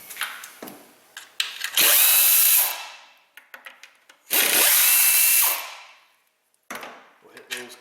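A power drill with an 8mm socket drives bolts on a Ford Taurus engine, two loud sustained whirring runs close by, with clanks and handling noises between them.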